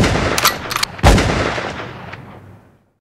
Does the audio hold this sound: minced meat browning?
no